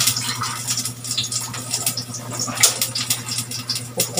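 Broth from a can of Century tuna drains out in short splashy trickles during home cooking, with a steady low hum running underneath.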